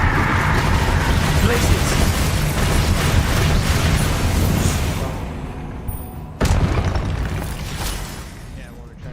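Confringo spell blasts in Hogwarts Legacy on PS5 rumble as a dense, sustained barrage of booming explosions that fade, then a fresh sharp burst erupts near the end, with a voice speaking over the combat.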